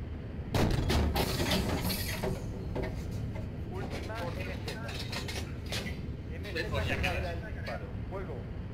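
Gunfire in the tank simulator game Steel Beasts PRO, with sharp broadband shots and bursts over a steady engine rumble, a loud volley near the start and more reports later, while people talk throughout.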